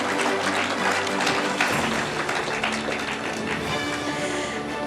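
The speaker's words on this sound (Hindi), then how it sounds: "एक बार जोरदार तालियां इनके लिए।" An audience applauds award winners at an awards ceremony, a steady dense clatter of many hands clapping at moderate distance, sustained throughout with no pause.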